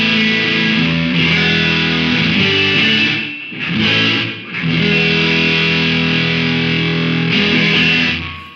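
Electric guitar driven through the Safari Pedals Dirty Dog Overdrive plugin at default settings, placed before the amp, gives sustained, loud distorted chords with two brief dips in the playing and no voices.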